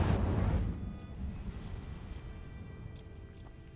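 A fire spell igniting dry vines in Hogwarts Legacy: a loud whooshing burst of flame at the start that settles into a steady, rumbling crackle of burning.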